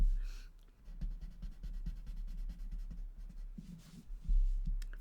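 Graphite pencil shading on paper in a Zentangle drawing, heard as soft, rapid scratchy strokes in short bursts, close and quiet over a faint low rumble.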